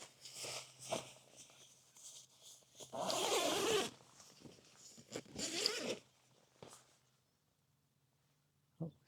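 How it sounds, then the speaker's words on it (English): Two-way zip on a TAS Tactical Assault Systems pole hoop bivvy being pulled in several close, scratchy bursts, one long run in the middle, with short pauses between pulls. "is a two-way zip, and it comes all the way down to past halfway."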